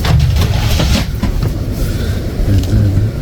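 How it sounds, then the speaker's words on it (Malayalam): Steady rumble and rattle of a train travelling toward Rügen island, from Berlin to Sassnitz, heard from inside the carriage with continuous loud wheel and track noise and no break. "ഐലൻഡ് കിടക്കാൻ വേണ്ടിയിട്ടുള്ള ട്രെയിനിലാണ് നമ്മളുള്ളത്"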